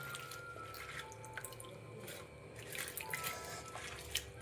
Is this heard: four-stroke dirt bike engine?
no